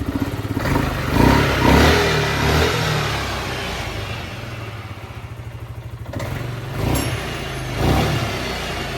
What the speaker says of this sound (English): Defaulting in gear, so when I rev now it should go forward.